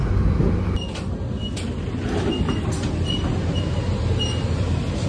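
The Logawa economy passenger train runs at high speed, around 120 km/h, with a loud, continuous rumble of wheels on rails and faint high squeals over it.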